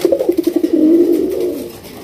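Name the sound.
Bombay pigeons cooing at a pigeon farm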